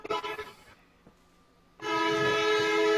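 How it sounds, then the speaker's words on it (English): A train near a station sounds a loud, sustained horn that starts abruptly after a burst of rumbling noise and a near-silent gap, carrying on to the end. "Somebody lives by a train station."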